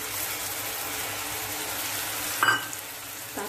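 Softened potato and onion cooking in a pan for a mushroom, pea and potato curry, a steady close sizzle of frying with brief clinks as spices go in, no talking.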